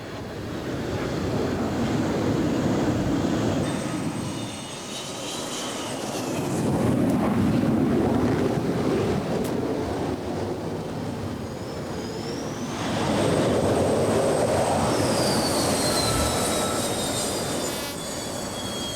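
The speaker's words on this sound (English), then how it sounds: "The arresting wire tension is set, and another trap." Jet aircraft making an arrested landing on an aircraft carrier's flight deck: a loud, sustained engine roar with high whining tones that swells in waves, easing and surging again as planes trap on the arresting wire.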